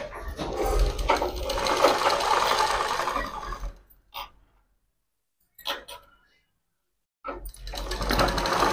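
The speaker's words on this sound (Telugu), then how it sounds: "ఇలా దొడ్డు కుట్టుతోని అటాచ్మెంట్ చేస్తున్నాను లైనింగ్ను" Sewing machine running in long loud bursts while attaching lining with a thick stitch to piping on a half-saree prince-cut deep-neck blouse, with short pauses and a brief quiet gap between runs.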